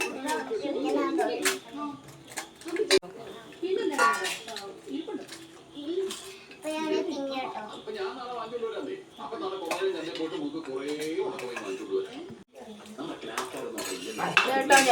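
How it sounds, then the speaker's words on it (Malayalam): Plates, spoons and pots clink and clatter at home as chicken curry and rice are served, a scattered run of light metallic knocks and taps under near-continuous family chatter, with a voice among the talkers. "ഞങ്ങളിതൊക്കെ വിളമ്പി കഴിക്കാൻ നോക്കുകയാണ് കേട്ടോ"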